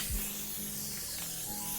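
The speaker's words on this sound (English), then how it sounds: "spray it all around the rim just to make sure that it seats in properly" A spray can of disc brake cleaner or soapy water mists around a Xiaomi scooter's front tyre rim, giving a continuous close hiss with faint rubbing, and no talk.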